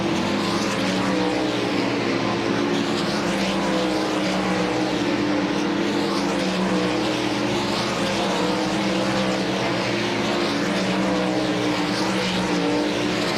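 Dirt race car running a hot lap at Volusia Speedway during DIRTcar Nationals, a loud, steady engine roar sustained throughout with no break or talk.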